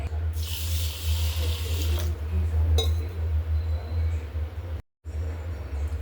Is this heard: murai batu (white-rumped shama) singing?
no